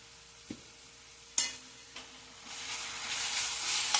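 Raw mango rice with spices and turmeric fries in a pan, a soft sizzle that builds to a steady hiss, punctuated by a few sharp clinks of stirring.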